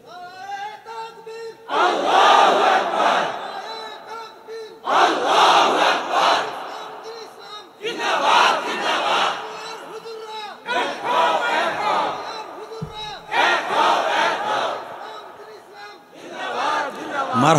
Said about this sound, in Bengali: তাকবীর দাও তো জোরে